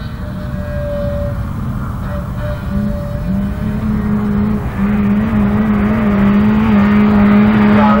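Autograss race cars at St Neots, engines droning loudly and continuously on the dirt track, with rising and falling engine tones as cars pass through the field.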